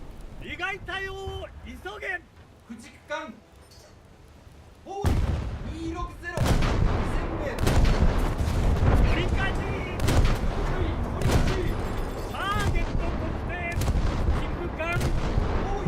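Repeated booming cannon and gunfire from enemy ships in a naval battle video game, sharp loud blasts overlapping in rapid succession with a player's voice talking over them.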